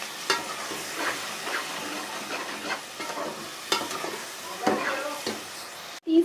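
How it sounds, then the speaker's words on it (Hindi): Spices and peas frying in a pan for vegetable pulao, with a steady sizzle broken by repeated stirring scrapes at an uneven rhythm, close and moderately loud, ending in a brief silence and a sharp clunk. "और अब हम इसकी 3 से 4 मिनट अच्छे तरीके से भुनाई करेंगे।"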